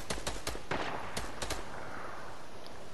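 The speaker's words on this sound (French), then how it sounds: "ça tire au snipe de ouf" Sniper rifle fire in a video game, a burst of sharp cracking shots in quick irregular succession during the first half, then fading into a dull ambient rumble.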